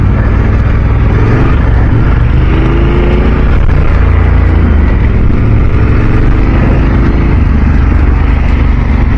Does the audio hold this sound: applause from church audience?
no